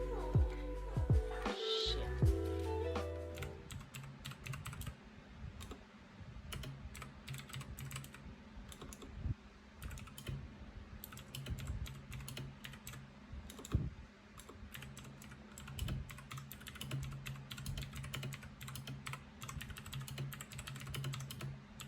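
Rapid clacky keystrokes on an RK61 60% mechanical keyboard, typed continuously at an uneven pace, close and fairly quiet, with a few louder thocks mixed in.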